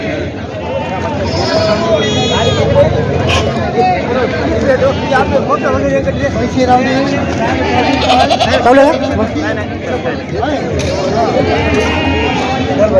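Goats and kids bleat repeatedly, near and loud, at the Khandoba goat market in Parbhani, over constant crowd chatter and people talking close by.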